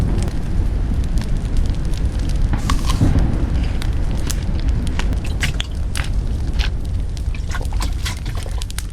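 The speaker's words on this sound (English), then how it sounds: "And just like that, we got a fireplace." A fireplace burns in the survival video game MIST Survival, with loud, continuous crackling and frequent sharp pops and snaps over a dense low rumble, and no speech.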